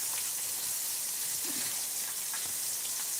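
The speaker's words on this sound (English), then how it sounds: "Just gonna fry them up like so." Mushrooms frying in a pan, a steady close hiss and sizzle with faint crackles, continuous and alone.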